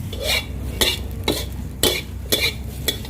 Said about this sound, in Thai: ก็ผัดไปเรื่อยๆเลยครับคนไป จนพริก เริ่มออกหอมกระเทียม มีกลิ่นครับผม